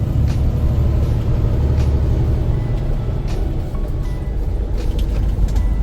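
Steady road traffic near a border duty-free fuel pump, a loud continuous low rumble of passing cars and heavy vehicles with faint brake hisses, and no talking.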